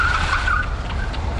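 A BYD prototype electric car accelerates hard, its loud tire squeal and rushing road noise filling the moment with a rising electric whine close by.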